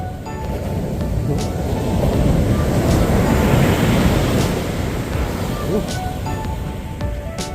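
Big ocean waves break onto a sandy beach nearby, a loud, continuous roar that swells to a peak midway then eases, with wind buffeting the microphone.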